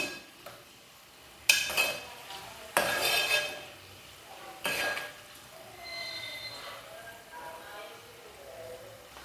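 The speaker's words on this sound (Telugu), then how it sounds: "ఒకసారి ఉల్లిపాయలని కలుపుకుందాం." A spoon clanks on a pan as two small onions are stirred for mutton kheema. Three sharp metal knocks stand out, followed by quieter scraping and a faint sizzle, with no voices.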